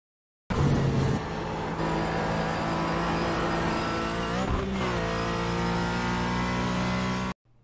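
A GT4 race car engine in the iRacing sim at Lime Rock roars at full throttle, a loud sustained mid-pitched drone with rising revs and a brief dip midway, heard alone without talk.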